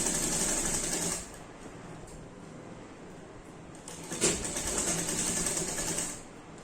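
Stitching along the folded edge of a collared kurti, a sewing machine whirs loudly up close in two bursts with a quieter stretch between them and no talking.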